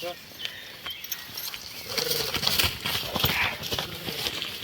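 Hoofbeats of a small herd of horses arriving on soft ground, irregular thuds and shuffles with snorts nearby, while someone talks over them.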